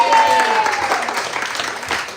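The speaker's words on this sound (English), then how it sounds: "So give them another round of applause." A live audience at a New Orleans jazz club on Frenchmen Street gives a short burst of applause for a swing quintet, clapping mixed with a voice speaking over it.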